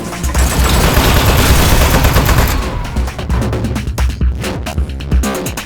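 Turret gunfire in the Aperture Desk Job video game: loud, rapid bursts of automatic fire, dense and continuous before breaking into choppier shots, over a low throbbing background.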